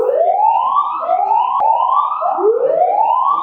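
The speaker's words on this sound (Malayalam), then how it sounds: "4 മണിയോടെ ആദ്യത്തെ സൈറൺ മുഴങ്ങുകയും ചെയ്തു." An emergency siren for a district mock drill in Kottayam wails in repeated rising sweeps, loud and continuous, with a brief sharp click partway through.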